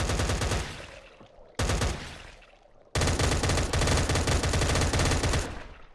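Gunfire in the Minecraft modpack Cursed Walking: three loud bursts of rapid automatic shots, the last one sustained for several seconds, with no talking.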